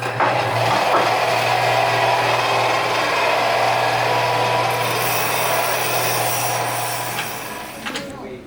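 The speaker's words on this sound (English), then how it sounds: "better grind it a little" An object ground by hand in a Model A garage gives a continuous, loud, rasping rub for several seconds over a low steady hum, then tapers off and stops.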